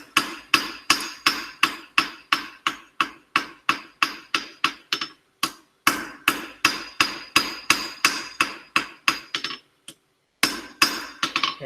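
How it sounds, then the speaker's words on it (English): Rapid hammer blows on metal while shaping a diamond point, a long run of sharp ringing strikes that lighten toward the tip, with a short pause near the middle and another near the end, close and loud with no talking. "Hammer blows getting lighter as I get towards the tip."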